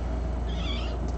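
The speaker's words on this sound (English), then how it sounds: "These are very bold kittens." Kittens meowing softly in a quiet room, a single faint high-pitched mew near the end over a low steady background hum.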